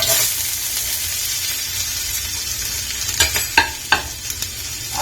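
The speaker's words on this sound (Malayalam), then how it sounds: "ബീൻസിട്ട് നമ്മൾ ഇളക്കണം." Beans sizzle steadily in hot oil in a kadai while a spoon stirs them, giving a continuous close frying hiss broken near the end by a few sharp scraping knocks. No one speaks.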